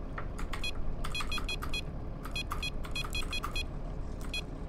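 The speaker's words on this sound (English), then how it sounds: "Listen to that engine." A steady low bus engine rumble drones throughout in the video game OMSI 2, with rapid metallic clicking bursts rattling over it in irregular clusters.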